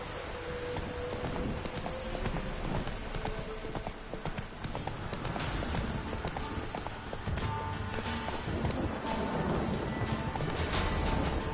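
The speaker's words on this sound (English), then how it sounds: "Whoa there, Roach." Horse hooves clip-clop steadily through a Witcher 3 game scene, a continuous walking rhythm heard up close with dense game ambience and music underneath, plus a brief whinny.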